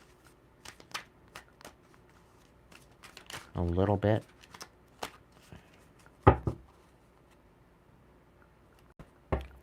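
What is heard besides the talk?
shuffling tarot cards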